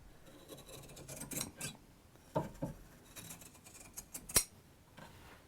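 Scissors snip through yarn on a Brinkley loom, a few close, crisp cuts spaced irregularly in a quiet room, with faint rubbing and handling between them.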